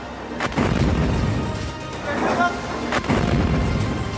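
Heavy booms from Iranian missiles striking buildings in the city of Dimona roll over a continuous loud, rumbling wash of noise, with sharp blasts recurring around the middle and later part.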